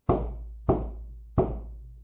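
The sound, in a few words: knocking on a door, sound effect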